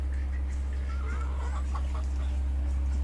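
Domestic country chickens, kept alongside ducks, give a few short clucks partway through, fairly faint over a steady low hum.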